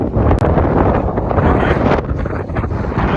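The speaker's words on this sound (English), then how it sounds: "It's windy." Strong winter wind at Llyn y Fan Fawr buffets the microphone in a loud, continuous roar with gusty fluctuations throughout.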